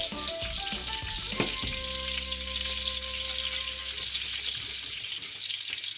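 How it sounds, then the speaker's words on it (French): Honey sizzles and caramelizes in a pan while making a raspberry-honey sauce for duck breast, a loud, steady close-up frying hiss that swells slightly toward the end. "Votre miel commence légèrement à brunir, caraméliser."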